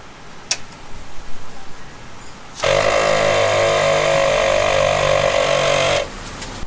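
ARB twin air compressor mounted on a Jeep switches on partway through with an abrupt, loud, steady buzzing drone. It runs for about three seconds and then cuts off, with quiet background sound before and after.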